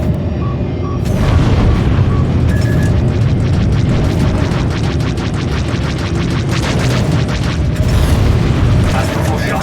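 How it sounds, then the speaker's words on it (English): Video game explosion as an enemy fighter plane is destroyed, a loud, dense booming blast sustained across the whole stretch with crackling bursts layered on top and a voice speaking over it. "Enemy fighter destroyed."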